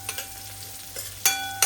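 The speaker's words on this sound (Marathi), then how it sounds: "आता याच्यात आपण कांदा, आलं लसूणची पेस्ट आणि जिरं मोहरी एवढंच टाकलंय आणि त्याला मस्त आता परतवून घ्यायचं" Onion, ginger-garlic paste, cumin and mustard seeds sautéing in a pan, a soft steady sizzle broken by a few scrapes of a spoon stirring, the last two sharp and close.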